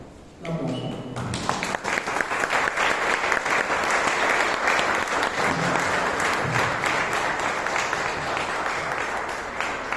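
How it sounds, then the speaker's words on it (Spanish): A standing congregation applauds at a church book presentation, a full, steady round of clapping that starts abruptly after a brief moment of talk and holds loud for several seconds. "Un aplauso."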